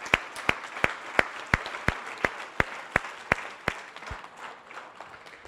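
Church congregation clapping in a slow, even rhythm, about three sharp claps per second. The claps sound crisp and moderately close, then thin out and fade near the end.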